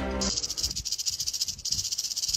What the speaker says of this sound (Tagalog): ito ang gumagawa ng nakakaalarmang ingay o tunog ng buntot ng rattlesnake